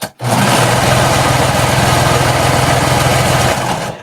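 A sewing machine stitches down the pocket on a knit skater dress in one steady, continuous motor run of about three and a half seconds, loud and close, with no talking.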